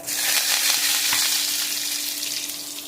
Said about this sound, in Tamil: சட்டியை காய வச்சு எண்ணெய் ஊற்றியாச்சு. கடுகு பொரிஞ்சு முடிஞ்சதும் போடுறதுக்கு கொஞ்சமாக சீரகம், ஒரு கொத்து கருவேப்பிலை